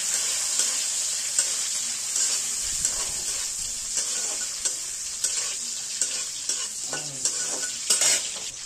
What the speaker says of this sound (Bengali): ঘি আর গরম মশলা দিয়ে এই ফোড়নটা দিয়ে আমি এখানে কিশমিশ, কাজু এগুলো দিয়ে ভালো করে নেড়ে নেব।